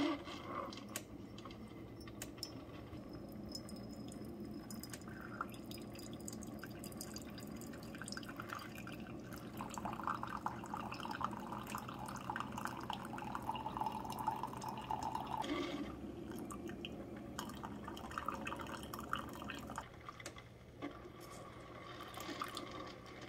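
A K-Slim single-serve coffee maker brews an 8-ounce cup through a disposable filter in a reusable K-cup, with a steady trickle and drip of liquid into the cup and a low machine hum underneath.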